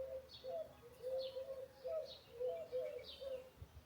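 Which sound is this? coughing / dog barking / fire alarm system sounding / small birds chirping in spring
small birds chirping in spring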